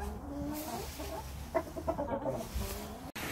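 Shamo chickens, including a white Taiwan Shamo hen, cluck softly in a series of short, close calls, with quiet farmyard background between them.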